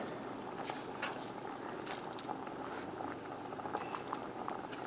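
Vegan coconut curry with tofu simmers in a pot, giving off a soft, steady bubbling and patter that stays faint and even throughout with no talk.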